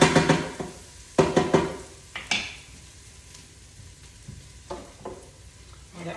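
Coconut chicken curry cooks in a pan with a low, steady sizzle, broken by several sharp clatters and scrapes of stirring, loudest near the start and again toward the end.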